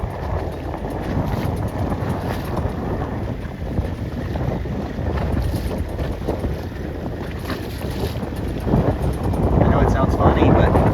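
Strong wind roars across the microphone aboard a racing sailing dinghy on open water, a dense, buffeting rush that swells louder toward the end, with indistinct voices partly buried beneath it.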